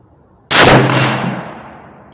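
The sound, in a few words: rifle gunshot, .308 Savage Axis with Burris scope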